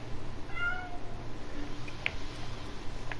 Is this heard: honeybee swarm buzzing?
no